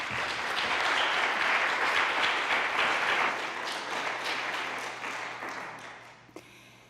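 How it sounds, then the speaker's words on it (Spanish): Welcoming applause for a lecturer at Spain's national library, a full round of clapping from the audience that gradually fades over about six seconds, ending with a few stray sounds. "les pido para ella un aplauso de bienvenida"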